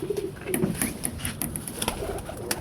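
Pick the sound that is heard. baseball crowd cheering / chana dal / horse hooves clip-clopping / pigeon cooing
pigeon cooing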